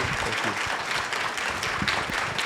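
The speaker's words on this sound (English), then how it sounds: "can we all give them a round of applause?" A crowd applauds steadily, a dense wash of clapping that fills the whole moment without any talking.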